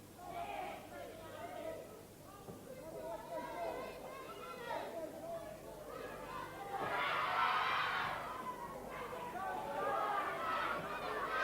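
Wrestling crowd at a New Zealand professional bout, a steady murmur of chatter swelling into a louder cheer midway, with an excited commentator talking over it throughout.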